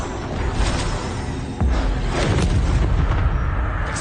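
A Confringo spell explosion from Hogwarts Legacy, a low booming blast that hits around mid-clip and rumbles on through a dense, noisy battle mix.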